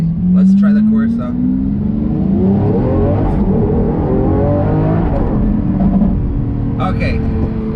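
A Lamborghini SVJ accelerates hard in Corsa mode, its loud engine rising in pitch through several abrupt gear shifts, while someone talks over the roar.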